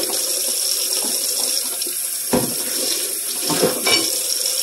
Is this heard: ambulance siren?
no